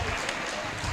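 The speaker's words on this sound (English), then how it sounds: "A round of applause for him." Audience applause at a Medical Lab Science oath-taking and induction ceremony, a dense, steady wash of clapping lasting just under a second.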